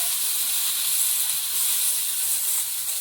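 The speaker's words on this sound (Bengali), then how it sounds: "এবারে পালং শাকটা এর মধ্যে দেবো।" Spinach added to taro frying in a hot pan, a steady continuous sizzle and hiss held evenly throughout, with no voices.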